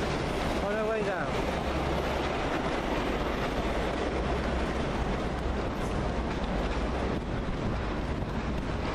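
Three HST high speed trains cross one another on a London line, a loud, continuous rumbling roar of wheels and engines that holds steady throughout, with a brief higher tonal whine near the start.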